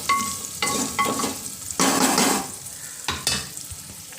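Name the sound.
sautéing chopped potatoes in a pan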